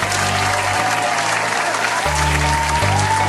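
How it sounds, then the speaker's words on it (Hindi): A studio audience at a comedy interview show applauds loudly and steadily to welcome the guest family, the dense clapping continuing the whole time with a low musical hum underneath. "तो वेलकम करते हैं बहुत जोर तालियों से"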